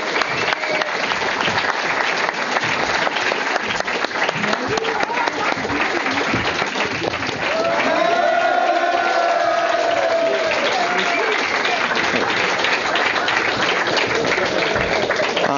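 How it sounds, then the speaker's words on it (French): A large theatre audience applauds loudly and continuously without letup, a thick wash of clapping with crowd noise and a brief raised voice or cheer rising above it partway through. "Applaudissements, en tout cas, applaudissons Biquette"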